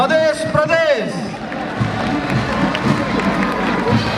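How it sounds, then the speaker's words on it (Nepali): A large outdoor crowd cheers and applauds at the opening ceremony of the 9th National Games in Pokhara Rangashala stadium, honouring the Madhya Pradesh team; a steady roar of clapping and voices, with amplified tones sounding at the start. "मध्य प्रदेशका सम्पूर्ण खेलाडीहरूलाई हौसला अभिवृद्धि गरिदिनुको लागि जोरदार तालीको हामी अपेक्षा गर्दछौँ।"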